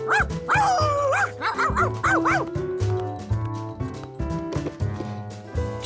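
Cartoon dog barking and yipping in quick bursts, loud and close, with whimpering pitch slides between barks.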